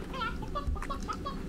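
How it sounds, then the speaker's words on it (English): Hens cluck in a video game with short, choppy bursts of fowl calls, close and moderately loud, with a few brief pops mixed in. "Guess I'm getting the hens."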